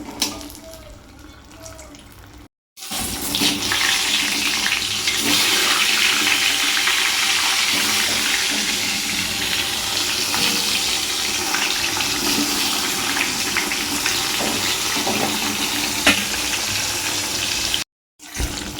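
Pointed gourd frying in hot oil in a wok makes a loud, steady broadband sizzle with a hissing, watery texture. It runs continuously for most of the stretch, with a brief drop near the start and another near the end.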